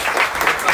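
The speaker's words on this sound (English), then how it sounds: "please let's give a round of applause to Pranav" Devotees at a special program give a round of applause for a high school graduate, a brief, steady patter of clapping hands.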